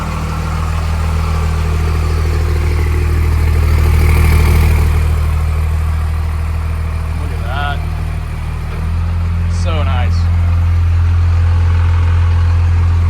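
A First Gen Cummins diesel truck engine idles steadily throughout with a low, constant rumble, close and loud, while people talk briefly over it.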